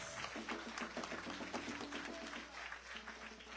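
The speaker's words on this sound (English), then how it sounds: "Don't you think you need a bigger round of applause?" Sustained audience applause fills a temple hall during a night of the Ganesh Utsav celebration at a Vishnu Mandir in Soesdyke, with a voice faintly heard under the clapping.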